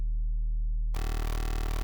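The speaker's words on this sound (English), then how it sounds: "So if I just unplug that, we'll hear just the simplest tone, almost a sine wave." A Cardinal synth oscillator hums a steady tone, then switches abruptly to a plain near-sine tone with a faint pulsing ripple, clean and continuous with no other sound.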